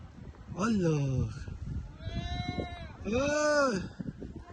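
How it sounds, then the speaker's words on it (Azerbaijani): Goats bleat outdoors on a leisurely family walk, three drawn-out wavering cries in quick succession, fairly close and clear, with people talking softly in the background between calls. "Hey, keçiler var burada."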